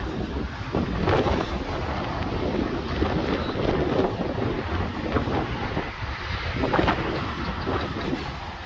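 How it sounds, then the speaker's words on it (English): Strong, steady wind buffets the microphone throughout outside abandoned shops on a street, a continuous rough roar with gusty swells and no voices. "very, very windy"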